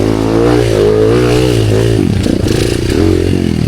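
Enduro motorcycle on a rough dirt trail, the engine loud and close, revving up and down with rising and falling pitch, with clattering and scraping toward the end.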